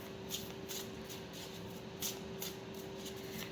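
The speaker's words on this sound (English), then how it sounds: "I'm going to shuffle them a little bit more" A new deck of oracle cards being shuffled by hand, soft riffling and sliding bursts repeating every half second or so, quiet and close against a faint steady hum.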